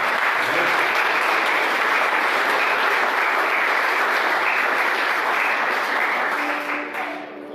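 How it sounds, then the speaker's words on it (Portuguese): Church congregation applauding at an evening thanksgiving service, a dense, loud, continuous wash of clapping that holds for several seconds and then tapers off. "Mas vamos aplaudir a Jesus pela vida do Sérgio."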